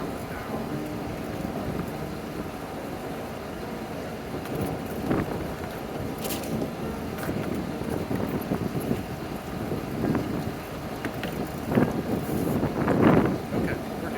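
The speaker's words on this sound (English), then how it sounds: "Listen to the motor." A boat motor runs steadily near a drawbridge, a low constant drone under wind noise on the mic, with voices talking at times.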